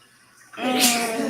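A single sneeze bursts out about halfway through, loud and close, with a sharp onset and a breathy, hissing tail that lingers before fading.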